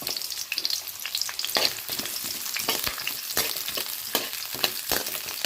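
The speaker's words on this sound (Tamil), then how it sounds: "வெங்காயம் நல்லா பொன்னிறமாக ஆகிற வரைக்கும் நல்லா வதங்கணும்." Onions fry in a pan toward golden for an Afghani egg dish, a continuous crackling sizzle broken by sharp spattering pops and stirring scrapes, close and fairly loud with no voices.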